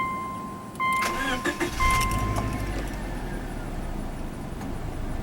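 A 2005 Subaru Outback XT turbo wagon cranks with a short starter whir, then catches and settles into a steady, fairly close idle that runs on alone with a faint chime in the background.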